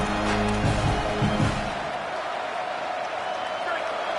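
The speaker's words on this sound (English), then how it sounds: "This crowd, full throat, splitting the eardrums" A loud, full-throated football stadium crowd roars steadily during a game against Baylor, a broad wash of cheering that stays constant throughout, with a voice speaking over it at the start.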